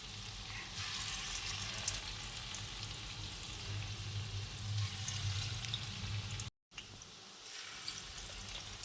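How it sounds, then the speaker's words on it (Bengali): Lentil fritters deep-fry in a full batch of oil, giving a dense, steady crackling sizzle throughout, briefly cut off by a short silent gap before the bubbling resumes. "ডুবো তেল দিলে অনেকটা একবারে দেওয়া যায় ভাজার জন্য।"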